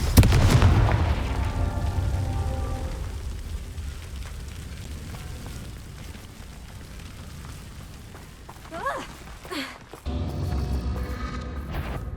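A deep booming blast from the Confringo explosive spell in the Hogwarts Legacy video game, loud at first and then fading into rumbling debris, followed by a short whooshing effect and a renewed low roar.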